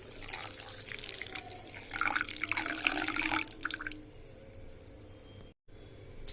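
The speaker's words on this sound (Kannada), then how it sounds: "ಇದಕ್ಕೇನದ ನೀರು ಹಾಕೋಣ." Water splashes from a pour into a vessel of Bombay rava (semolina) for poori dough, a gushing, bubbly stream for about four seconds before it tapers to faint drips and quiet.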